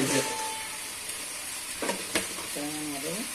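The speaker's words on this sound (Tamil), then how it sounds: "அதுக்கப்புறமா கடாயில தக்காளியை போட்டுடலாம்." Tomatoes dropped into a hot kadai for a bread egg roast masala, frying with a steady close sizzle and a few sharp stirring clatters.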